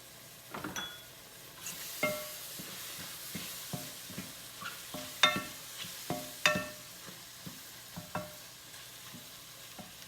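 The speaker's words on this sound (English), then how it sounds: "Now I'm going to add a clove of garlic." A garlic clove goes into a pan for mushroom soup and sizzles softly while a utensil scrapes and taps the pan in a run of irregular clinks and stirs, close by, with no talking.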